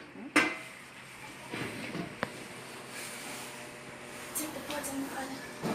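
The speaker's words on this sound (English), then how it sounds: "Just get a pot spoon and stir." A pot spoon clanks and scrapes inside a cooking pot, with a sharp knock near the start and scattered metallic clinks over a continuous kitchen background, while someone talks.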